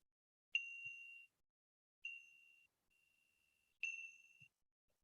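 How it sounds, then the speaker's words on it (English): Three clear, ringing chime strikes rung to open a minute of silence at a peace session, each sustained tone fading over about half a second, spaced roughly 1.5 seconds apart, with a faint softer ring between the second and third, in a quiet room. "So let me just ring you a chime to start"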